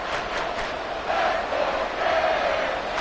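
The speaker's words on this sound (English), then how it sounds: "This crowd doing all they can." A football stadium crowd roars steadily before a third-and-goal play, a broad, dense wash of cheering that swells slightly in the middle and stays loud and distant throughout.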